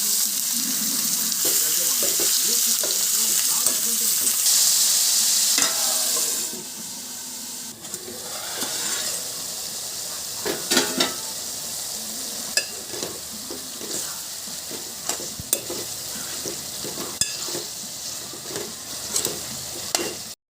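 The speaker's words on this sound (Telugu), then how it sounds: "ఇప్పుడు ఇందులో కట్ చేసుకున్న చికెన్ ముక్కలు వేసుకోవాలి" Cut chicken pieces dropped into hot oil in a pan for curry, a loud broad sizzle at first that settles into quieter crackling and frying with occasional stirring scrapes, close by.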